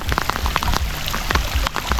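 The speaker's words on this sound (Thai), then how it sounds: "ฝนตกแล้ว" Rain pours steadily outdoors at a reservoir during cast-net fishing, a dense close hiss of drops spattering surfaces throughout with no speech.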